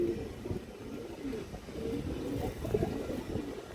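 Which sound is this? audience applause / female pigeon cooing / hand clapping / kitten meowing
female pigeon cooing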